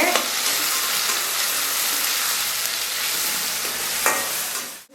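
Tomatoes sauté in a pan with a dense, even sizzle and occasional sharp scrapes of stirring, heard close up with no one speaking.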